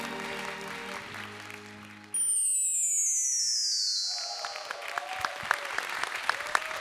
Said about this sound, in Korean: 이건 진짜 나오는 함성이에요